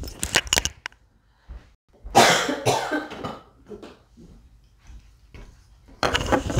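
Several sharp coughs, a few at the start and a loud burst near the middle, come from close by in a quiet indoor room, with rustling and breathing between them.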